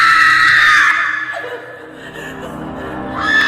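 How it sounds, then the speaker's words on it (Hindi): A woman screams loudly in a horror story, a sustained shrill cry at close range that breaks off into gasping, whimpering sounds before the scream starts again. "वो जोर जोर से चीखने लगी"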